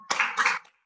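A few quick, close hand claps in a short rhythmic burst, the PPK clapping chant of a Hindu religious education class, with no voices over it.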